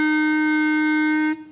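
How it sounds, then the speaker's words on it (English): A clarinet sustains one steady F, close and loud, held for over a second before it stops cleanly with a short room decay. "And for the clarinet, it sounds like this."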